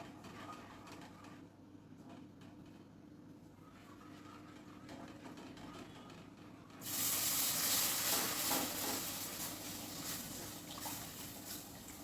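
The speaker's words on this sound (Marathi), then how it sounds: "आता आपल्याला कोमट पाणी घालूया याच्यात थोडं थोडं, म्हणजे गुठळ्या होणार नाही याच्यात।" Warm water poured little by little into roasted gram flour for Sindhi kadhi: a steady, close rushing splash that begins partway through and continues loud, with a quieter kitchen background before it.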